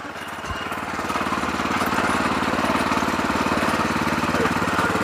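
HEAVYATOR power tiller engine running steadily and loud up close, a continuous rhythmic low chugging throb that holds even from start to end with no voices.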